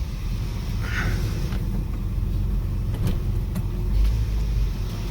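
A 1958 Chevy barn find, custom-built, runs with a steady low engine rumble close by, the idle droning evenly throughout with no voices.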